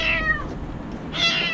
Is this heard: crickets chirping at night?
no